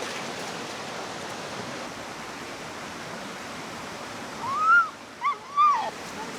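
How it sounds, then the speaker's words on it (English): A waterfall in an Australian tropical rainforest gives a steady, soft, broadband rush heard from a distance. A few short bird calls or whistles sound near the end. "I can hear the waterfall."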